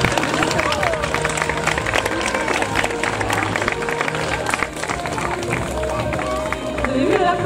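An outdoor audience at a bird show in a French wildlife park bursts into sustained applause, dense clapping mixed with crowd murmur and a voice over a loudspeaker, steady throughout.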